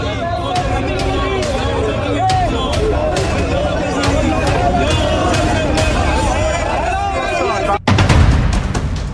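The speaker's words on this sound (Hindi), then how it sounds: "वहीदी से हाथ मिलाने और मिलने के लिए भीड़ उमड़ आई है" Dense crowd surging around IRGC chief Ahmad Vahidi at a funeral procession, a continuous loud roar of shouting and babble with sharp bangs and claps scattered throughout, a brief dropout near the end before the din returns.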